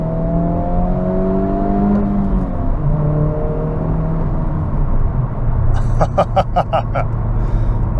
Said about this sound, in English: it is definitely louder from the engine, the exhaust.